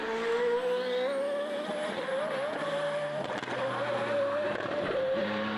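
Formula BOSS race cars circulate at Mondello circuit, a loud, sustained engine roar with a steady pitch that rises and dips as the cars accelerate and shift, dense and continuous with no talk over it.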